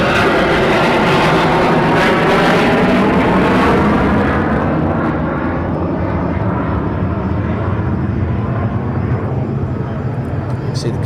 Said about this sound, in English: These are F-35s over the top